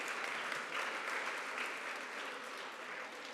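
An audience at a school ribbon cutting applauds steadily, a dense even patter of clapping from a sizable crowd heard throughout, fairly faint and without talk.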